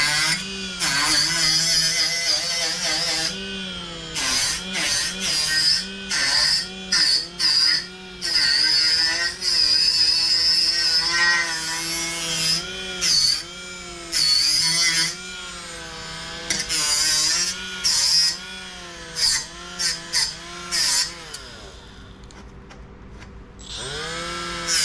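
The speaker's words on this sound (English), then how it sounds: "So we'll go ahead and clean that up with the flap disc and get rid of any sharp edges" An angle grinder with a flap disc smooths the freshly cut metal edge of a Ford Ranger FX4 bumper, a loud, steady whine broken into repeated bursts with short pauses between passes.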